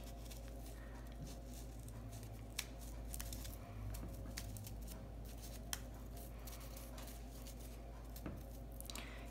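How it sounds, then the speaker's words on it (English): Scissors slowly cutting a folded paper snowflake, giving soft, close snips and paper crinkles at an irregular pace, with the paper shifting between cuts, over a low background hum. "See, I'm not really sawing the scissors up and down."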